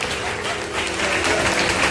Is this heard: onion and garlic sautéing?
no